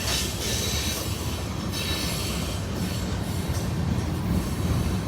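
A long CSX freight train, roughly 10,000 to 12,000 feet, rolls steadily past at Kelly, Kentucky, with a constant loud rumble of railcars and occasional wheel squeal throughout, no voices.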